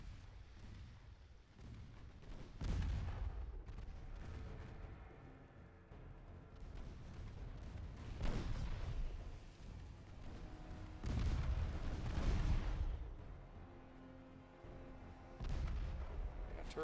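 Naval guns fire high-explosive shells in the naval warship game Ultimate Admiral Dreadnoughts. Repeated deep, heavy booms roll out every few seconds over a continuous low rumble, with no talking.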